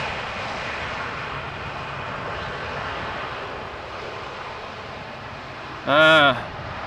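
An airliner with a stubby fuselage and an oversized-looking tail at Amsterdam Schiphol Airport gives a steady, moderate engine roar from a distance, with a short, louder tonal burst near the end.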